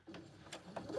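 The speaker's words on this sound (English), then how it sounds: "I'm gonna run that on my sewing machine to seal that off." A sewing machine stitches a seam on a tote bag in a quick run of short, rhythmic mechanical pulses, steady and fairly quiet.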